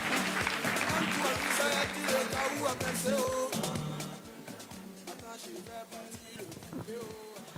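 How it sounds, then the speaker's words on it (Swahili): Audience applause fills a hall at the Top 40 Under 40 Women 2024 awards ceremony for honoree Kenya Gitonga: steady dense clapping with music underneath, easing slightly toward the end. "Pigeni makofi Kenya jamani"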